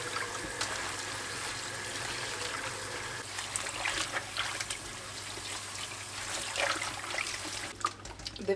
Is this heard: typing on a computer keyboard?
no